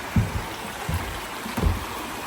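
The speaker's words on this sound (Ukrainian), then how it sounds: "такий інший звук річки журчить водичка" A small mountain stream in a Transcarpathian village trickles and gurgles steadily nearby, with a few soft low splashes standing out from the continuous flowing water.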